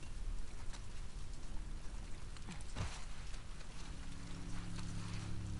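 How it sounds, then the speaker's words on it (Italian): Steady rain in the video game The Last of Us Part II patters continuously in the background, a dense hiss of drops with a brief splashy swell partway through. "qua piove molto bene."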